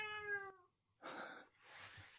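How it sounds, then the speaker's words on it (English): A cat gives a clear, close meow with a falling pitch, then a couple of breathy, softer vocal sounds, faint and indoors with no talk. "My cat has just come in here."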